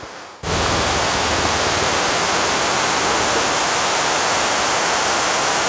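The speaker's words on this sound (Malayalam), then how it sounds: "ഇത് നമ്മുടെ പാറക്കുഴി വാട്ടർഫോൾസ് ആണ് കേട്ടോ പാറക്കുഴി വെള്ളച്ചാട്ടമാണ്" Parakuzhi waterfall running strongly in the rainy season cuts in after a brief quiet moment and becomes a dense, unbroken roar of rushing water, loud and close, with no voices.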